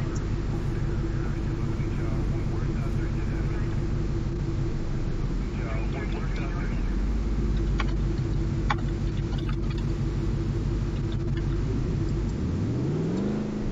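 A limousine drives in a roleplay game, its engine a steady, close droning hum that rises in pitch as it revs near the end, with voices talking over it.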